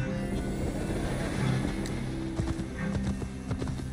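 Steady clip-clop of horse hooves in a continuous trotting rhythm from Assassin's Creed Valhalla, close and fairly loud over a busy background.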